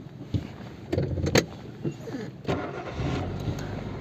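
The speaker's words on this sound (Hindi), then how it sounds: "हमने गाड़ी को स्टार्ट किया।" A car engine cranks and catches, with a few clicks and thumps before the starter, then settles into a steady idle rumble close by.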